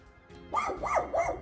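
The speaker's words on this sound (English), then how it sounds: "the dog that you always hear barking." A dog barks three times in quick succession, each bark rising and falling in pitch, fairly close and loud.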